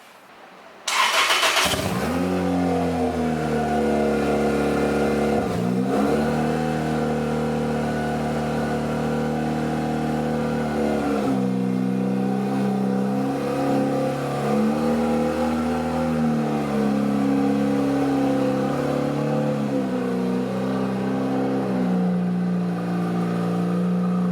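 A Toyota Celica GT-S Turbo with a nearly straight-piped TRD exhaust cranks and fires up loudly about a second in, then idles and revs in rising and falling surges for over twenty seconds, close to the microphone.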